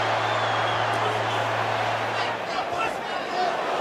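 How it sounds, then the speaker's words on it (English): Boxing arena crowd roaring in a sustained, dense swell during round 4 of Canelo Alvarez vs Billy Joe Saunders as an uppercut narrowly misses, with a steady low hum underneath and no clear single voice standing out. "You hear the crowd."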